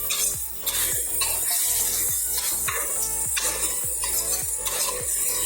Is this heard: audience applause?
no